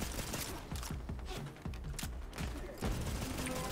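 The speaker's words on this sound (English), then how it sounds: "I keep shooting at the NPCs." Borderlands 3 gunfire aimed at NPCs fires in fast, rattling bursts of close shots mixed with mechanical clatter and creaks.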